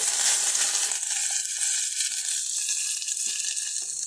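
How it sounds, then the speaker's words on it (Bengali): Ginger paste and onions sizzle in hot oil for coconut rice, a bright crackling hiss that starts loud and eases slightly as it continues, close up and without talk. "এবার আমরা সুন্দরভাবে ভেজে নেব।"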